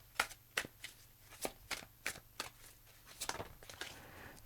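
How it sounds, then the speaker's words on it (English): A deck of oracle cards is shuffled by hand in a series of crisp riffling bursts, roughly a dozen quick slaps and flutters spaced through the take, close and fairly quiet with no voice. "I'm going to shuffle one more time"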